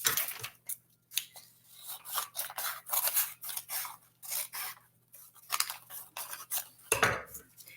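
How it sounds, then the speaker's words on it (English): Scissors snip along the full length of a sheet of paper, cutting a long, thin strip with a steady run of crisp, close snips and rustles. "I'm going to cut maybe a piece of paper, the entire length of the paper, about maybe this thick"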